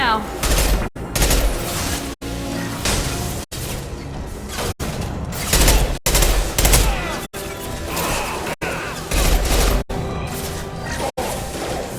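Gunfire in Mass Effect 2 rattles in repeated loud bursts of shots and impacts, broken by brief silent gaps, with game sounds and voices mixed in.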